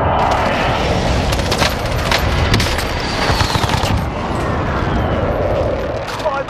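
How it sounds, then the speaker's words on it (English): Precision airstrike explosions in the Call of Duty: Warzone video game, a dense, continuous roar of blasts and rapid gunfire-like bursts that stays loud throughout, with voices talking underneath. "friendly precision airstrike inbound"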